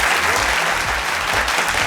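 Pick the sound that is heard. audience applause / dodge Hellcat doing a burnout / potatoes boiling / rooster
audience applause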